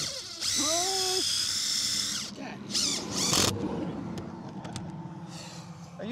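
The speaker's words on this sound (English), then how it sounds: "you have to push on the drill, right?" A power drill whines loudly at high pitch for a couple of seconds, then spins again in shorter bursts before a quieter mechanical hum.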